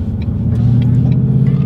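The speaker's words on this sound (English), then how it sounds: "Rev matching," Ford Mustang GT engine being revved during rev matching, a loud, steady deep V8-style drone with a slight rise in pitch, close and continuous.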